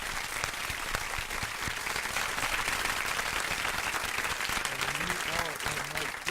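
A studio audience applauds at a radio show, a dense wash of clapping that stays steady and fairly loud throughout, with voices talking faintly underneath.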